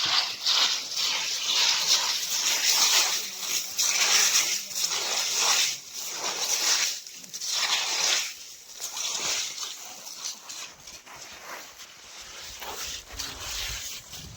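Water gushes and sloshes into a freshly dug pit outdoors, a loud, steady, close wash of splashing with surging swells throughout.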